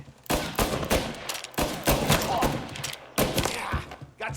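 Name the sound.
gunfire in Mafia video game shootout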